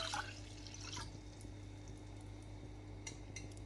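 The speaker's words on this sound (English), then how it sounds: "So for this I'm going to put 3 cups of water." Water for a sugar syrup pours into a pan, a faint trickle with a few brief drips and splashes over a steady low hum, with no talking.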